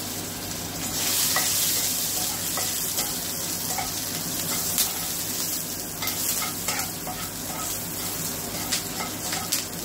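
Black cumin and green chillies sizzling in hot oil for tempering, a steady close frying hiss with occasional spoon stirring and small crackles throughout.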